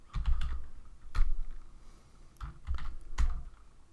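Keys clatter on a computer keyboard in short bursts of several quick presses, close and crisp, with a brief pause between clusters, ending with a Ctrl S save shortcut.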